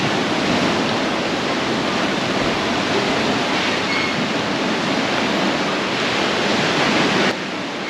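Ocean waves break on a beach at high tide as a loud, continuous wash of surf noise that holds steady and then drops off abruptly at the end.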